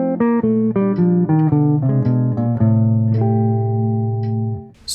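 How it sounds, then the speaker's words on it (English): A guitar plays one connected single-note melodic line over a chord progression, clear plucked notes in a steady rhythm that settle onto a long sustained note, close and alone. "playing a single linear line over the whole progression"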